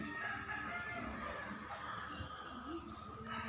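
A rooster crows amid a busy farmyard of chickens, with clucking and background noise throughout.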